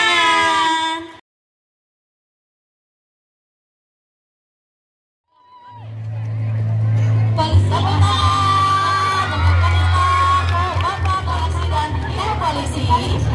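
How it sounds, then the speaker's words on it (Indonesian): Audience at a school event cheering and whooping after a brief voice cuts off and a few seconds of silence, then loud crowd shouting swells over a low rumble and carries on to the end. "Berikan tepuk tangan."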